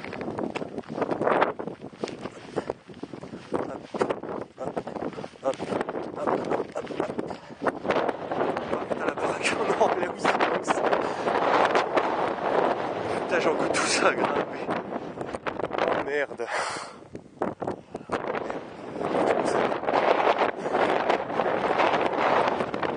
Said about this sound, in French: il y a plus ou moins tout le temps du vent, mais là il commence à souffler sévère